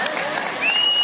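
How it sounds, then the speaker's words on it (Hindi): A political rally crowd applauds in a dense, continuous burst of clapping close by, with a voice over it. "इसलिए एक बार जोर से ताली हो जाए।"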